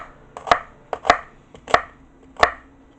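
Four sharp knife chops on a cutting board, evenly spaced about half a second apart, cutting ripe onions; each stroke is close and crisp with a faint preliminary tap before it, and nobody speaks.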